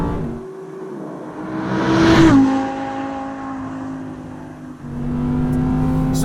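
A 2020 Audi R8 Performance Coupe pulls away, its engine note rising through a strong rev, then a brief dip as it shifts, and the tone climbs again. Heard from inside the car, loud and steady, with no talk.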